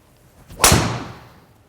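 A golf driver strikes a ball off the tee on a driving range during a comparison of TSi, SIM, Mavrik and G410 LST drivers, giving one loud, sharp crack that rings out and decays over about a second.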